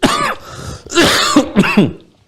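A lecturer in a live Ramadan talk clears his throat and coughs several times in quick succession, close and loud, each burst harsh and raspy with short gaps between.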